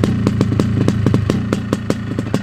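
A 1982 Yamaha YZ490 motorcycle engine idles with a steady, close-up rumble and regular sharp clattering pops, loud and continuous throughout.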